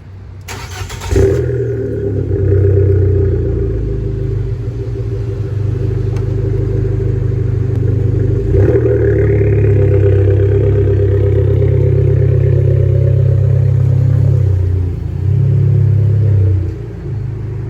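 An Abarth 595 with a 1.4-litre turbo engine cold-starts with a sharp crank and catch, then settles into a loud, deep, throaty idle, broken by two blips of revving, recorded close up.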